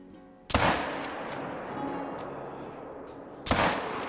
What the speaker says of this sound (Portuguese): Acertei, mas não foi um bom tiro, não.